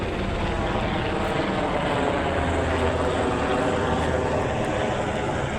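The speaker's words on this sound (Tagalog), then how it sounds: "may lumilipad na ng mga helicopter" Helicopters fly overhead in the evening, a steady, loud rotor and engine drone that fills the whole stretch without a break.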